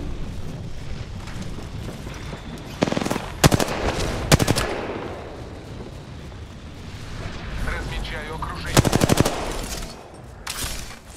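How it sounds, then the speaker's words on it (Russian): Automatic gunfire in the video game Apex Legends comes in several sharp, rapid bursts, separated by quieter stretches of game noise. "В меня стреляют."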